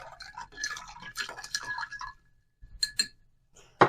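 Blood orange paloma cocktail being stirred in a mixing glass, with light clinks of ice and spoon against glass in short bursts, close and fairly quiet, followed by a brief pause and a few sharper taps.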